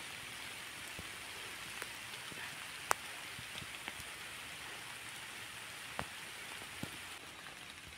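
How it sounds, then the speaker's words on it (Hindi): Rain falls during sunshine in an Uttarakhand mountain village as a steady, even hiss with occasional sharper drips and taps nearby. No one speaks. "और अब बारिश भी आई है और धूप भी आई है।"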